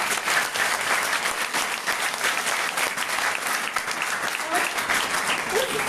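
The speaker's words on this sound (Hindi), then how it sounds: "तो एक बार अपने देश के लिए ताली तो बजाइए।" An audience at a school program under the G20 in India claps steadily, dense continuous applause filling six seconds at an even level.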